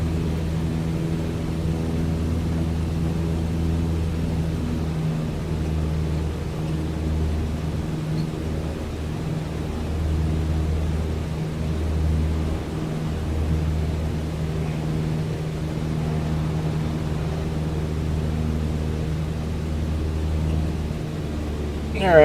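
Steady light aircraft engine drone in a flight simulator during a touch-and-go over Switzerland, a continuous low hum holding level with slight throttle wavers and a brief rise at the very end.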